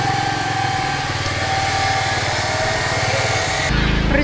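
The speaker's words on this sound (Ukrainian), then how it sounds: "У нас тут будівництво." Construction work with power tools runs nearby, a continuous loud buzzing engine-like whine with steady rumble, unbroken for the length of the clip and shifting slightly near the end.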